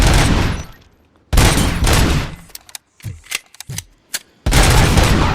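Gunfire in the video game Robocop Rogue City: loud sustained bursts of automatic fire, a pause filled by scattered single shots and echoing pops, then another heavy burst, close and aggressive.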